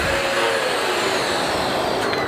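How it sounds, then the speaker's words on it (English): Hoover vacuum cleaner running indoors, a loud, continuous motor whine with airy suction noise and no pauses. "This vacuum is a million times better than that Dirt Devil."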